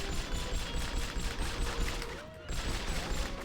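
Rapid automatic gunfire aimed at the player in the video game 007: From Russia With Love comes in dense repeated bursts. The volleys are loud and continuous, with a brief lull near the end before they resume.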